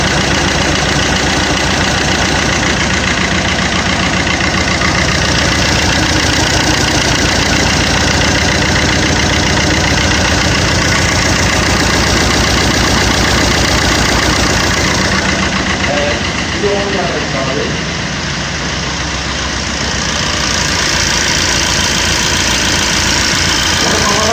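A diesel Multijet car engine idles steadily after being quietened, a continuous low rumble with a faint knocking texture that holds even for the whole stretch, close and loud, with a slight dip and some disturbance near the end.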